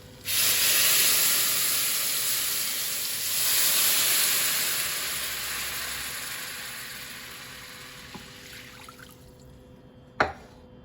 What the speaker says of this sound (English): you're gonna wanna deglaze your pan